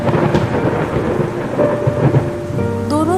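Heavy rain pours steadily through a thunderstorm, with deep rolling thunder rumbling beneath the downpour for the whole stretch; near the end a few high chirping bird calls rise over the storm.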